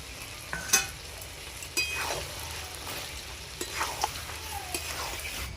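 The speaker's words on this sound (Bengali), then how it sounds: "এবারে মাংসের মধ্যে আমি এই আলু ভাজাগুলো দিয়ে দেব।" Fried potatoes are stirred into mutton curry in a pan, giving a soft continuous sizzle with scraping stir strokes and a few clinks of a spoon against the pot, fairly quiet and without talk.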